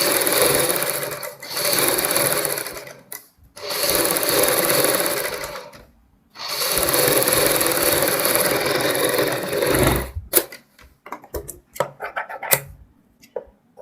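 An electric sewing machine stitches piping onto a kurti neck in loud, rapid bursts of a few seconds each, separated by brief pauses, then gives way to scattered clicks and fabric handling.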